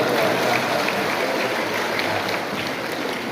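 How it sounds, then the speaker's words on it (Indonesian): Congregation applauding at a church gathering attended by a bishop, priests and nuns, a dense steady wash of clapping from a crowd that fills the whole stretch at even loudness. "Kita tepuk tangan."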